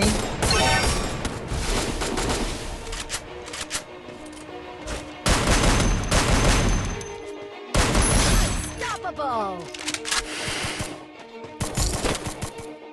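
Bursts of rapid automatic gunfire in the mobile battle game Free Fire, several loud volleys separated by brief gaps, with shorter shots and game effects in between.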